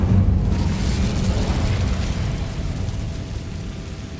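The Incendio fire spell in Hogwarts Legacy goes off as a loud, booming blast at the start, then a broad roaring whoosh that slowly fades with no speech over it.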